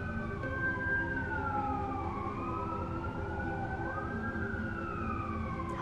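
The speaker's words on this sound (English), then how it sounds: "Sounds like fire trucks though." Fire truck sirens wail outdoors at night, rising and falling tones overlapping from more than one vehicle over a low engine rumble, steady and moderately distant throughout.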